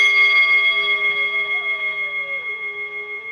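A bell rung during a yoga class sends out one sustained, bright tone that hangs in the air and slowly fades with a gentle waver, loud and alone.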